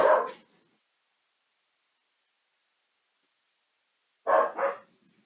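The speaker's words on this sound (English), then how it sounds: "She wants to bark at something." A pet dog barks indoors, one sharp bark followed by a double bark a few seconds later, loud and close with silence in between.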